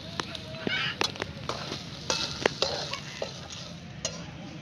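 Fasting-style thalipith mixture being sautéed in a pan, with a soft continuous sizzle broken by repeated sharp scrapes and clicks of a spatula stirring against the metal, close and moderately quiet.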